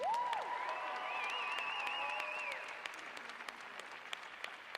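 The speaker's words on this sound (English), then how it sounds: "How about another round of applause for those guys?" Audience applause after a performance at a wellness event, a steady soft wash of clapping from a crowd, fairly distant and faint, with a brief musical tone near the start and individual claps poking out as it tapers.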